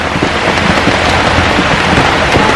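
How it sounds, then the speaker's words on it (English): Torrential rain pouring down in a Paris street, a loud, dense and unbroken roar of heavy downpour filling the whole moment with no voices. "An absolute torrential downpour."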